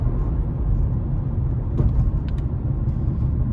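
A Toyota Previa S Edition engine while driving: a steady low rumble of road and engine noise heard from inside, constant and fairly loud, with no talk.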